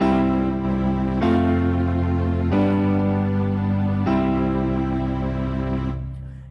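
Auto-accompaniment chords with a string ensemble on an EZ10 keyboard, sustained orchestral chords changing three times in a steady progression, then fading at the end, with no talking.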